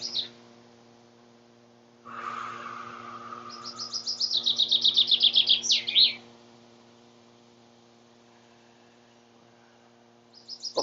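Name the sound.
birds chirping in a garden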